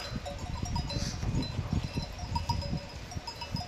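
Sheep bleat on a farm with a ram and lambs in the flock, with several overlapping calls over a steady bed of farmyard noise and a faint bell clinking, moderately close and with no talk.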